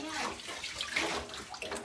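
Water runs and splashes steadily into a bath as a child is bathed, with a faint voice under the flowing water throughout.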